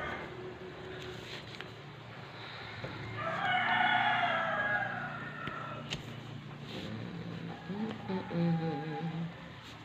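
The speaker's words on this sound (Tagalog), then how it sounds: "Ayan, manok na ni Ariel Toyo." A rooster crows loudly nearby, one long drawn-out call rising over a background of outdoor ambience and distant clucking.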